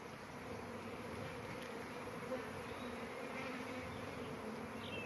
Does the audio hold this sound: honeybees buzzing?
yes